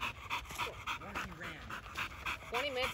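A muddy dog on a hot day pants in fast, rhythmic breaths close by. A voice briefly sounds underneath.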